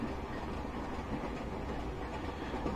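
A Class 24 diesel locomotive runs steadily between Inverness and Dingwall in Train Simulator Classic, giving a continuous close engine and rail rumble with no talk.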